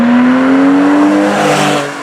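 A Porsche 911 of the 996 generation accelerates in traffic, its engine note climbing in a smooth, steady rising drone, loud and close from inside the car, easing slightly near the end.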